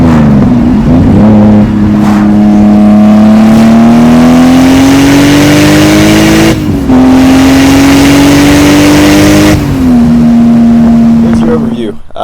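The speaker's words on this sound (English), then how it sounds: "Once this traffic clears, I'm gonna do like a third gear pull." A Lexus GS300 drift car pulls hard in third gear, a loud, close engine note climbing steadily with brief dips at shifts, holding a raspy drone to the end.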